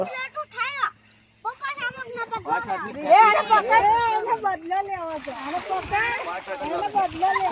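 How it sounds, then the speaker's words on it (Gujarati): Water splashes as several people bathe in the Mahisagar river, with shouting and lively chatter over the splashing throughout. "જો બધા નાય છે અહીંયા મહીસાગર પાણી નદીએ."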